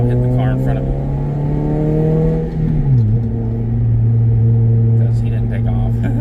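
2010 Toyota Yaris with a manual gearbox pulling away from a stop, a loud steady engine drone rising in pitch, dipping briefly around a gear change, then droning on, with a voice talking over it.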